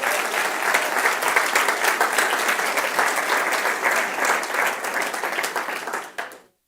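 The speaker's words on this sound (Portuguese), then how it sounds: "E se você crê, aplauda forte o nome dele." A Pentecostal church congregation claps hard and loudly in a sustained burst of applause during a Portuguese-language service, holding strong before trailing off and cutting out near the end.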